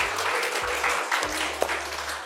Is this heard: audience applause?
yes